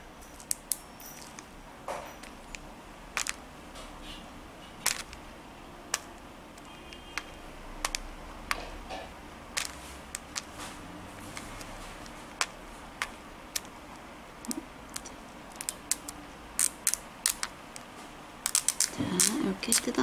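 A thin, rubbery Feel So Good elastic craft film peeled off like vinyl while making peach sticker art: scattered sharp crackles and ticks close by, irregular and sparse at first, then clustering into a denser burst near the end.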